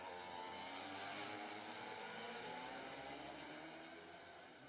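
Michael Rutter's racing motorcycle at the Macau Grand Prix during first training, its engine a faint, distant whine blending with other bikes in a pack, holding steady and then gradually fading away.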